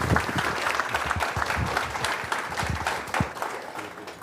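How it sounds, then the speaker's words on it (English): Sustained audience applause for a speaker at a NACD Austin board governance event, dense steady clapping from a crowd filling the room for the whole stretch. "Let's give him a nice round of applause."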